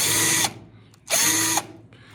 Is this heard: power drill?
yes